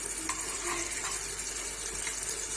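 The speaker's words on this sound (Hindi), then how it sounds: "अब अच्छे से हम इसको भून लेंगे।" Turmeric-spiced masala for dhaba-style kadhi frying in a pan, a steady close sizzle with faint stirring scrapes throughout, no voices.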